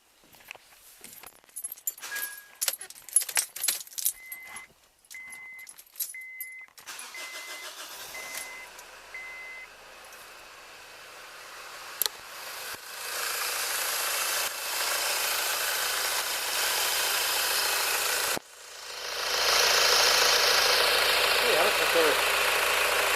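A Honda Accord 2.2 diesel after a fuel filter replacement cranks over in short bursts, then fires and settles into a steady, rumbling idle that grows louder toward the end; voices seem to be present.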